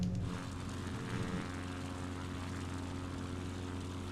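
Propeller airplane engine in the Flight Simulator 2024 video game, climbing after takeoff over the French Alps: a steady, loud droning hum with an even tone throughout and no talking.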